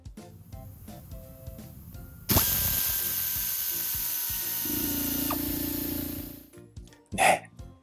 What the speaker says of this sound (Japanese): 一般的なエアラチェットと比べてみました。